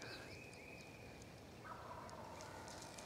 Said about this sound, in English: there's one gobbling right there.